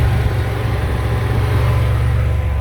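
A rough, steady idle from a Maserati Biturbo's engine, a 32-year-old car with a smoky smell after a rat nested in the engine bay, holds a low, even rumble throughout without pause.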